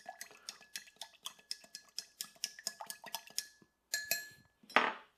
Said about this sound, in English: so this may work well just shaking it